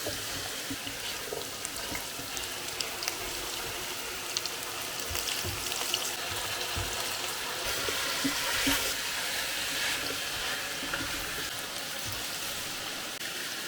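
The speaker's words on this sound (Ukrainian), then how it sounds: "я додаю води так, щоб картопля виглядала з води" Water is poured into a pan of lightly browned potatoes, a continuous soft splashing and trickling that grows slightly fuller partway through, with no speech.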